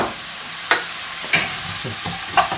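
Burdock root sizzles steadily in a frying pan while a utensil stirs it, with a few distinct scraping strokes spaced across the constant hiss; no one speaks.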